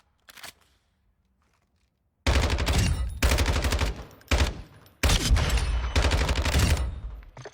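Rapid bursts of gunfire from the video game Call of Duty: Modern Warfare II, a brief shot at the start, then a pause, then loud sustained volleys broken by short gaps, close and dense.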